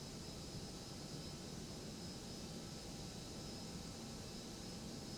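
Steady broadband roar of the ToLiss A319-112 jet engines during takeoff roll in X-Plane 12, a continuous dense rush with a faint high whine, constant and enveloping throughout with no voices.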